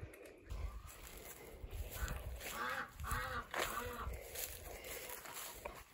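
Farmyard geese honk in a loose series of harsh calls, fairly close, mixed with other poultry chatter and outdoor background noise throughout.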